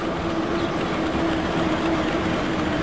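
A 1 km long freight train rolls along in the Transport Fever video game, heard from the cab as a steady, loud rumbling drone with a faint sustained whine and no talking.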